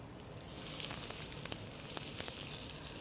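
Seafood sizzles on a very hot grill, a steady bright hiss with small crackling pops throughout, close and loud, with no talking.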